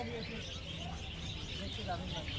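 Caged lovebirds and finches at the Garia bird market give a continuous background of faint chirps and tweets, mixed with market chatter and someone talking.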